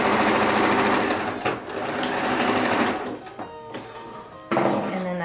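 Sewing machine, likely a serger, stitching a seam on a sweater being slimmed down, running loud and steady at first, then stopping and starting in short bursts with brief pauses between them.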